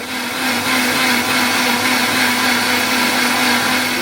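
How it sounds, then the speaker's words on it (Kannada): An electric mixie grinds sambar masala with added water for temple-style Mangalore cucumber sambar, a loud, steady motor whine with a constant pitch running unbroken throughout. "1 ರೌಂಡ್ ಇದನ್ನ ಹಾಗೆ ನಾವು ಮಿಕ್ಸಿಯಲ್ಲಿ ರುಬ್ಕೊಳ್ಳೋಣ"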